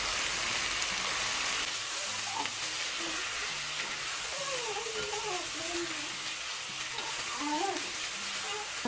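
Vegetables sizzle steadily in a pan just after soy sauce is added, with a constant frying hiss and scattered scraping and stirring clinks from a utensil throughout.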